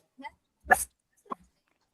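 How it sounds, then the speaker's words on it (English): A dog gives three short, sharp barks and yips, spaced irregularly over two seconds and fairly faint, with near silence between them. "The dog barked."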